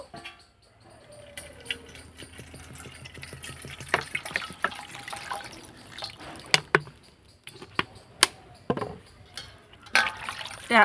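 Hands wash a medium-sized cabbage in water, with soft splashing, trickling and dripping, plus scattered sharp knocks and rustles of the leaves being rubbed, fairly close and moderately quiet throughout.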